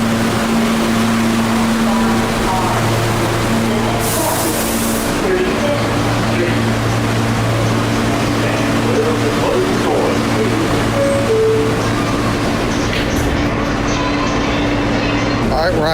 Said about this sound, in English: we'll get some recording of the train